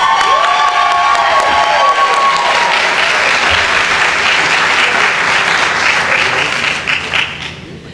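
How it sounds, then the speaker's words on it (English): A large crowd at a staff recognition event applauds loudly for 20-year service honorees, with cheers and whoops mixed in, holding steady before tapering off near the end. "We have a round of applause for all our 20-year honorees."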